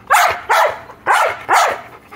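A wolf dog barks four times in a quick, loud, close series, alone with no talk.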